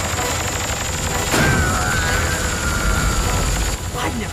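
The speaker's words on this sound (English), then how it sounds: "Gyro strike!" A gyro strike attack in a Transformers cartoon fight comes as a loud mechanical burst and boom over continuous rumbling effects, with a whistling whine that trails for a few seconds.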